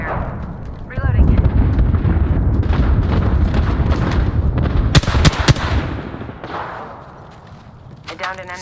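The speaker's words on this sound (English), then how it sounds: "I'm taking shots. Opening fire." Rapid gunfire in Apex Legends during a close fight, loud bursts of shots and booms packed together, with a voice talking over parts of the exchange before it tapers off.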